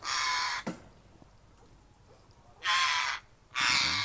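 Loud, harsh squawking calls from an African parrot in three separate bursts, with quieter background noise between them.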